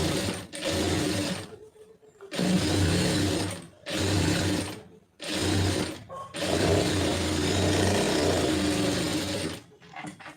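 A sewing machine stitches a lined blouse in five or six bursts of steady whirring, separated by short pauses, close and fairly loud with no talking.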